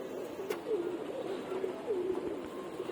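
A pigeon in a home racing-pigeon loft coos in soft repeated low rolling phrases, close but quiet, with faint background noise and no talk.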